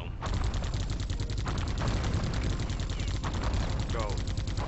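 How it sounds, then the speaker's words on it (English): Rapid automatic gunshots from the video game Geist fire in a steady, continuous rattle that runs loud the whole way through, with no voices over it. "I guess it would be better if I just shoot him"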